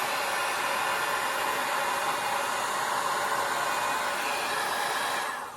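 A T3 Airbrush Duo hot air brush blows a steady, loud, close rush of air for several seconds, then cuts off near the end, with no talking.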